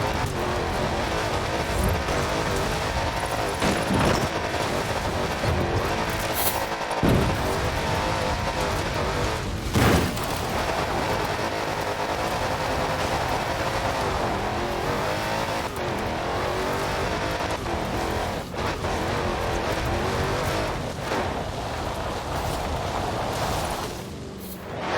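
Car drifting in the racing game Forza Horizon 4, a continuous loud engine roar with tire squeal and skidding through the corners, steady and close for the whole stretch, with no one talking.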